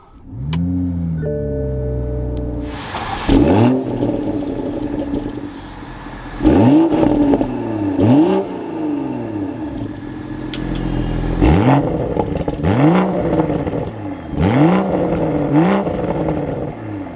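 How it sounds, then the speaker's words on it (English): A 2024 Toyota Supra 45th Anniversary Edition engine cranks and fires up loudly, then settles into a throaty idle broken by several sharp revs that rise and fall. "let's start this up and take a listen to how the Supra sounds."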